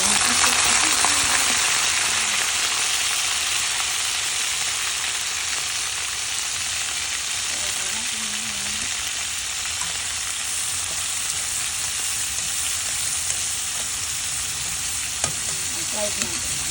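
Pork and liver for menudo fry in a pan with a steady, close sizzle that holds for the whole stretch, with faint stirring and a few quiet voices in the background.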